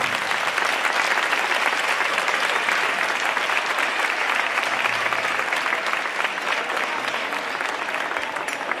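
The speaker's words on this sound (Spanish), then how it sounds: "Un aplauso fuerte para ellos." Strong, continuous audience applause at a municipal music school concert in Antequera, honoring a group of young music students; a dense, even roar of many clapping hands that holds steady and tapers slightly at the end.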